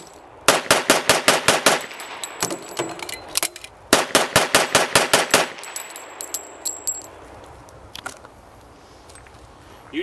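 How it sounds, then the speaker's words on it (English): A 1912-design pistol fires 21 rounds in rapid succession, two loud bursts of evenly spaced sharp cracks separated by a brief pause for reloading, with metallic clinks and a few trailing shots. "see if we can fire 21 rounds in 12 seconds"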